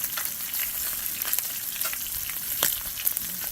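Bacon frying in a restored cowboy wok while pieces are stirred around, a bright crackling sizzle close up with intermittent scraping strokes, continuous and with no talking.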